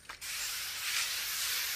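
Spray bottle misting a long pepper plant: a brief click and puff, then one steady, close hiss of spray running continuously to the end.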